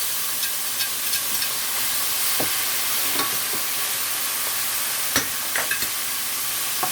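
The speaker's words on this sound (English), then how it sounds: "I'm gonna add all of this in right now, folks, and let it fry for a bit." Ackee and red herring frying in a pan with boiled banana and dumpling, a constant sizzling hiss broken by scattered pops and soft scrapes of stirring.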